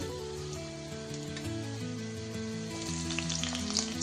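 Garlic and green chillies frying in oil for a four-angled bean stir-fry, a soft steady sizzling hiss running beneath a tuneful background melody.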